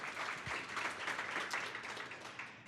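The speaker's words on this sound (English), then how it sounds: "let's give them a round of applause for offering this to us every month" An audience at a news industry event applauding, a dense, steady wash of many hands clapping at moderate distance for a few seconds, slowly thinning at the end.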